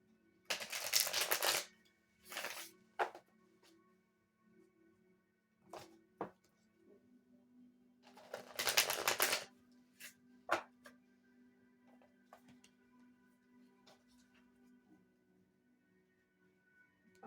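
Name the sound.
shuffling tarot cards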